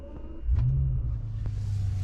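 A Bentley engine starts up with a brief rising crank that settles into a steady, low, fairly quiet idle rumble.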